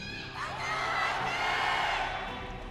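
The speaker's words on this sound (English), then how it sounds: "Large cheer from the crowd" A live audience at a StarCraft esports finals match bursts into a large cheer, a swelling roar of whoops and shouts that rises quickly, holds loud, then eases off slightly.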